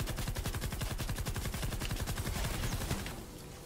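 Rapid automatic gunfire from Fortnite Save the World rattles in a dense, continuous stream of close, loud shots, easing off slightly in the final half-second.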